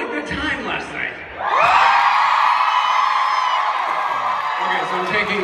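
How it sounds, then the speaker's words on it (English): Convention crowd at a Supernatural fan event in Las Vegas bursts into loud, sustained screaming and cheering after someone speaks briefly, the shrill roar filling the room and lasting several seconds. "By a round of blood curdling screams."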